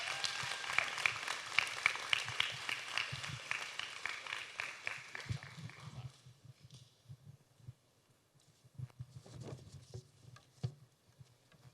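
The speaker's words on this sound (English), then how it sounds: "Let's give a clap to the Lord" Church congregation applauding, a dense burst of many hands clapping loudly for about six seconds, then fading into scattered quieter rustling and a few leftover claps.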